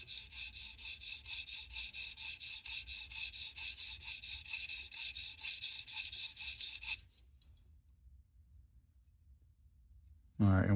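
A knife being sharpened on the plate of a Tsprof Pioneer guided system makes quick, regular back-and-forth rasping strokes for several seconds, then stops, leaving near silence before a brief loud knock at the end.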